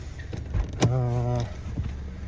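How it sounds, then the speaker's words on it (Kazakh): A small electric side-mirror motor on a 2010 Toyota Corolla whirs steadily for about half a second after a brief click, close by, with faint rumbling and clatter around it. "Бул жагында электрический күзгү. Иштейт экен күзгүсүгө чейин."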